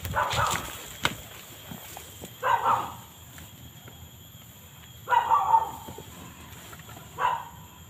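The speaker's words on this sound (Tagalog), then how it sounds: "Aso sila." A few dogs bark in separate bursts at a moderate distance, with quiet gaps between them over steady background noise.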